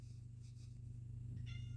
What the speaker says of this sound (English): The cats are taking over this podcast.